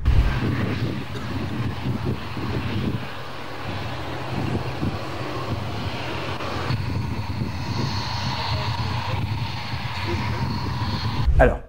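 Mirage 2000 fighter jet making a belly landing without its landing gear, one of five returning from South Africa to India: a loud, continuous broadband roar of engine and scraping runway noise, steady throughout with a sharp burst at the end.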